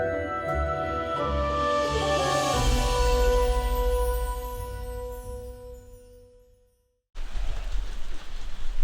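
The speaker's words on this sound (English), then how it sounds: "And of course, good old Florida rain." Steady Florida rain pours down in a broad, continuous wash, partly overlaid by tonal music that fades out before a brief silence, after which the rain resumes alone and close.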